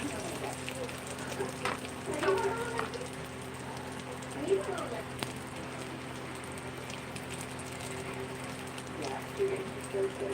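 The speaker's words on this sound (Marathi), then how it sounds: "मस्त अशी सुरमई मी फ्राय करते आहे." Surmai fish sizzles in a pan in a home kitchen, a steady soft crackle and spatter with a low hum beneath, fairly quiet and continuous with a few brief clatters.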